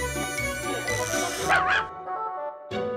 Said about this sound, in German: Der Welpe.